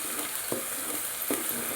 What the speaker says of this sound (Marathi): लाल होतो तेलात असं भाजून घ्यायचं